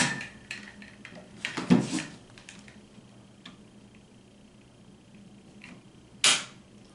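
A Taurus TX22 pistol is dry-fired in a quiet room, giving two sharp metallic trigger clicks a few seconds apart, with faint small handling taps between them.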